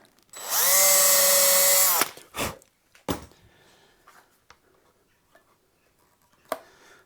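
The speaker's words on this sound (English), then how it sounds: "And just work my way around fitting the screws." A power drill runs for about a second and a half as screws are driven to fit pickups on a guitar body, followed by scattered clicks and handling knocks in a quiet room.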